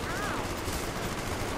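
Gunfire in the Call of the Dead zombie map of a video game, dense and continuous rapid shots filling the whole moment, loud and close, with a voice faintly mixed in.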